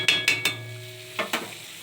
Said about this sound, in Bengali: দিয়ে এটাকে সুন্দর করে কষিয়ে নেব